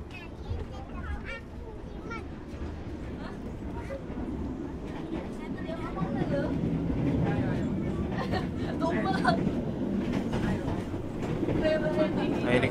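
Crowded KA Progo economy passenger train rolling along with a steady rumble and rail clatter, while many passengers chatter throughout the carriage.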